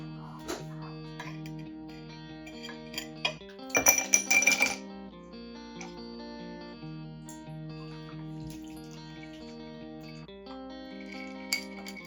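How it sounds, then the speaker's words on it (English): Glasses, ice and utensils clink in a short, busy burst while micheladas are mixed with salt, lime and ice, heard under steady background music. "So let's make some micheladas."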